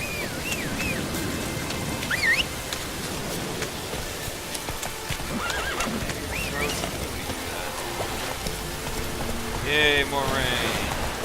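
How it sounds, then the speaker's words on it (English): Steady rainfall in The Witcher 3: Wild Hunt patters continuously with a few brief tonal chirps and game-like effects mixed in, no voices over it. "Yay, more rain."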